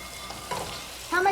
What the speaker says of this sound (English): So we're going to go ahead and put the beef in. Put the beef in now. Okay. Now stir that up.